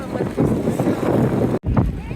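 Strong wind at a seaside fishing harbour in Taiwan during a kite festival buffets the microphone with loud, rumbling gusts, cutting out briefly for a moment before roaring again.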